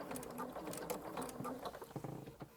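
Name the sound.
sewing machine stitching zigzag over elastic with braiding foot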